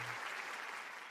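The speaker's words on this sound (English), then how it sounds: "Can we just get a big round of applause for our lovely guest Lucy?" A short burst of clapping from a small group, brisk and steady, fading slightly over about a second.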